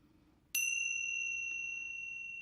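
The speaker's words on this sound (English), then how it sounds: "we can use a set of beautiful brass bells" A single brass bell struck once close by, giving a bright clear ding whose pure ringing tones sustain and slowly fade, with no talking.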